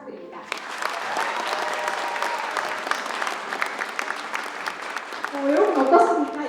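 A crowd claps steadily for several seconds at an outdoor redevelopment launch ceremony in Bucheon, South Korea, the sharp claps dense and close; a voice begins speaking as the applause continues near the end.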